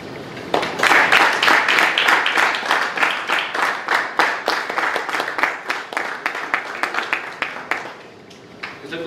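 Audience applause at a committee installation ceremony: a dense, continuous round of clapping that fills the room, close and steady, then tapering off near the end.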